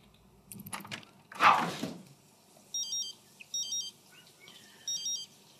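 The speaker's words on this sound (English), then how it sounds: "The phone's ringing." After a couple of brief knocks, an electronic phone ringtone in the video game The Sims 3 chirps in three short bursts with pauses between, fairly close and clear.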